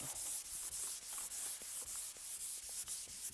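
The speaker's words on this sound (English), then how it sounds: "I'm just going to block sand just like that" A sanding block rubbed back and forth over a repaired car hood panel, with a quick, even rhythm of rasping strokes about three per second, close and continuous.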